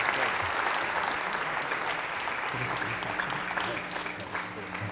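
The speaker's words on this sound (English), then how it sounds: "Let's give him a big applause." An audience claps after a seminar talk on failure, learning and games, a dense, sustained wash of applause that stays loud and steady throughout, with a faint low hum underneath.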